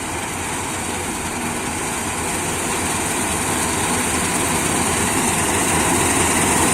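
A combine harvester cutting wheat in a village field, a loud, constant engine roar and mechanical drone close by that holds steady and slightly builds over the whole stretch, with no talking.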